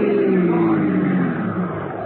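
Car engine revving as a radio drama sound effect for a gangster car chase, a loud, continuous throaty roar with slowly falling pitch that eases off near the end, with no voices over it.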